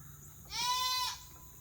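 A farm goat gives a single clear, nasal bleat lasting about half a second during a blood draw, set against quiet background noise.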